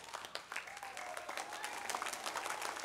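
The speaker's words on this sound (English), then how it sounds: "Let's wait till the very end to clap." Children applaud at an elementary school chapel service, a dense, steady patter of many small hands that builds slightly, with faint voices underneath.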